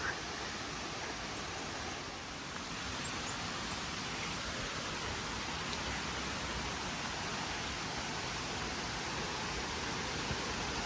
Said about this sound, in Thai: ด้านหน้าก็จะเป็นแบบว่าน้ำตก